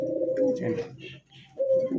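Large pigeons, a pair of big fancy birds, give low cooing calls close by in two sustained bursts separated by a short dip, with a voice talking over them.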